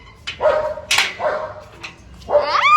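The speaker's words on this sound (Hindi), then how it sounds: "ये छोटा सा पिल्लू को भौंक रही है" A dog barks repeatedly at a small puppy, sharp close barks coming in bursts with short yips and whimpering whines between them.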